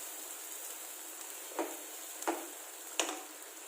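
Masala of ginger paste and spices fries in a pan with a steady soft sizzle, broken by a few brief stirring clicks.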